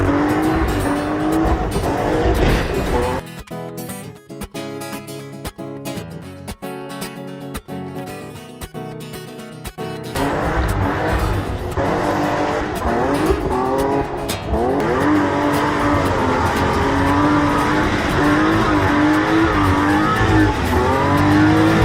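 A car does a burnout with its tires and brakes burning, the engine revving hard over loud, sustained tire squeal that breaks into rough, choppy bursts midway before the screech returns.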